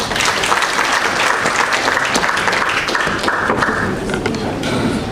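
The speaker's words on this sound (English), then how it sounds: "Another round of applause." An audience at an annual conference applauds, a dense sustained clapping that fills the hall at close range and holds steady throughout.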